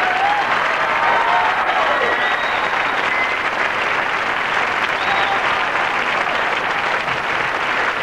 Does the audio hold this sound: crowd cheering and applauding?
yes